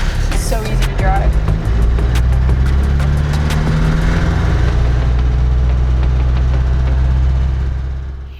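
A Land Rover Defender truck engine runs steadily at close range, a deep low rumble holding even throughout with faint higher mechanical ticking, then fading slightly at the very end.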